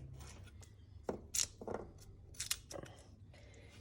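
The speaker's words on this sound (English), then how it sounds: "just directly chopping the garlics in there" Purple garlic cloves chopped with a knife straight into a dish alongside tomatoes and salt: a handful of sharp, irregular cutting knocks close by over a low background hum.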